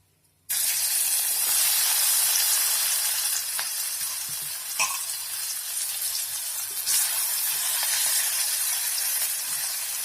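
Pieces of elephant foot yam hit hot oil after a brief silence and set off a loud, continuous sizzle and hiss, with a few faint clinks and stirring sounds coming through the frying.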